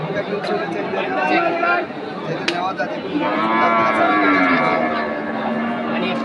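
Cows low loudly at a busy cattle market, with several long, drawn-out moos rising over steady crowd chatter and nearby talking.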